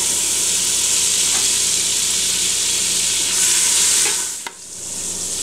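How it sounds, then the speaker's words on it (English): Eight tablespoons of Earth Balance vegan butter melting in a pot, a loud, close, steady sizzle and hiss that fades briefly near the end, with no talking. "add our 8 tablespoons of Earth Balance in the pot"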